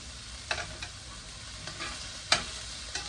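Fried rice with onions and other ingredients stirred in a hot pan, a steady sizzle with occasional scraping clacks of the utensil, close and clear with no voices.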